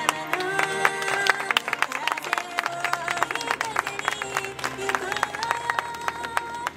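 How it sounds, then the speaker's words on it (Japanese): Clapping from an audience at an outdoor street festival runs throughout, after a singer-songwriter's performance, mixed with music and some voices, moderately loud and steady. "皆さん今一度大きな拍手を送りください"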